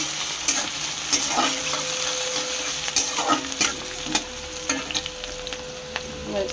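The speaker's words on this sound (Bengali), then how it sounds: "পেঁয়াজ কুচিটা দিয়ে ভালো করে নেড়ে নেব।" Chopped onions sizzle and fry for a Bengali tilapia fish curry, with a spoon scraping and stirring them in bursts of clinks over a steady close hiss.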